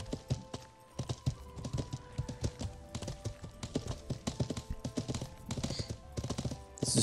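Horses gallop in the video game Life is Feudal, their hooves making a quick, steady clip-clop rhythm throughout, moderately loud, with a steady tonal game hum underneath.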